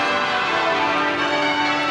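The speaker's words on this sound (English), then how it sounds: "King Charles arrives to the chorus of Westminster Abbey's bells" Westminster Abbey's church bells peal continuously in a dense, loud wash of overlapping ringing tones as King Charles arrives, steady throughout with no talking.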